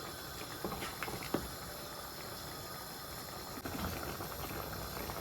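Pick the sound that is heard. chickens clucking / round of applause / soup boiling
soup boiling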